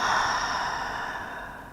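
A long, breathy exhale during a yoga session, close and clear, trailing off gradually after a strong start, with no speech.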